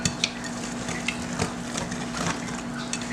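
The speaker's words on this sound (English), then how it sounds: "Just keep mixing it until you get all your flour mixed in." Pumpkin cake batter being stirred to work in the flour, a steady scraping, mixing sound in a bowl with occasional soft clinks, close and moderately loud, no talking.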